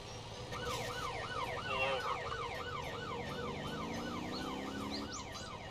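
A wailing police siren from a Jeep police car in the video game Motor Town: Behind The Wheel cycles up and down steadily, loud and continuous, over the hum of a moving engine.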